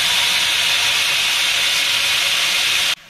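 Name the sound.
nigella seeds (kalo jeere) sizzling in hot oil for tempering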